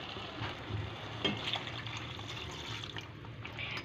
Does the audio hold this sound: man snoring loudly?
no